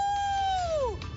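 A person imitates a wolf howl with a single sustained tonal wail that holds steady and then slides downward, close and fairly loud.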